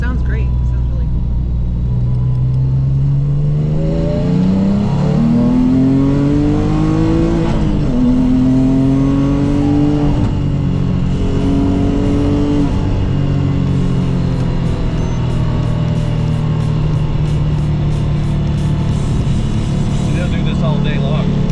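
A Porsche Cayman S with a 4.1-liter Metzger-style flat-six accelerates hard on a road drive, heard from inside with rising, shifting revs through several gears, loud and close, while people talk over it.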